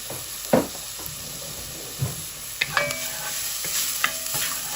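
Vegetables fry with salt and pepper in a pan for spaghetti sauce, a steady close sizzle broken by a few scraping stirs and clanks of the utensil against the pan.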